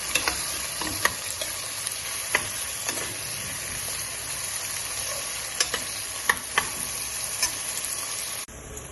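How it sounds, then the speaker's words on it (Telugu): Onions fry in a pan while browning for mutton paya, a steady close sizzle and hiss punctuated by sharp stirring clicks at irregular intervals, cutting off abruptly near the end. "ఆనియన్స్ ఇలా బ్రౌన్గా అయ్యే వరకు ఫ్రై చేసుకోవాలి."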